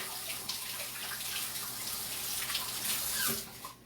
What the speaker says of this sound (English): Wash my hands one more time.